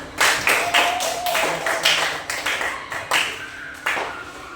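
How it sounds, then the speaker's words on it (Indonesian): A classroom of students claps after a presentation, with a few uneven bursts of scattered hand claps rising and fading in short waves at close range. "kita beri tepuk tangan"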